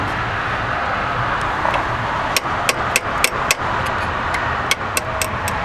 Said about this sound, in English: This one, you can hammer it down. So I'm gonna do that.